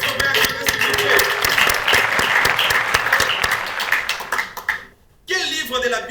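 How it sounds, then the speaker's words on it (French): Audience in a French Bible quiz event breaks into sustained applause and cheering, loud and dense with many claps, dipping briefly to near silence before a burst resumes. "Est-ce qu'on peut acclamer, s'il vous plaît?"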